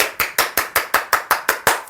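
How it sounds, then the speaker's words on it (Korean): Hands clap in a steady, even rhythm, about ten sharp claps in under two seconds, close and loud with no voices. "박수!"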